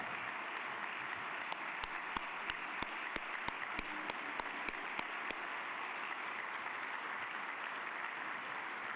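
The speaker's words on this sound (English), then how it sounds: "we all need to give them a round of applause" Applause at an athletic hall of fame ceremony as a group stands, a soft, even patter of a crowd clapping at some distance, punctuated by a series of sharper, louder individual claps close by.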